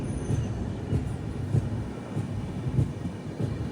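Inside a sleeper-class coach of the Yesvantpur to Sindhanur Express, a steady low rumble carries evenly spaced wheel clicks over the rail joints, with no talking.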